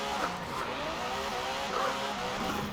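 Aston Martin Superleggera engine in the Forza Horizon 4 racing game, a steady high-pitched drone with slight revving swells, continuous and moderately loud, with no talking.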